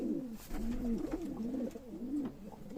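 Breeding pigeons cooing close by in a loft, a soft, low, rolling coo repeated several times over a steady background hum.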